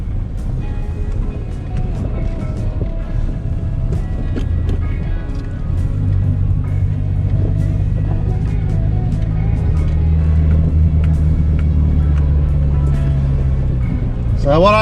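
A Subaru XV crawls slowly over rocks on the Kidman Trail in Australia, its steady low engine drone loud and close throughout, with occasional faint knocks and rattles over the rough ground.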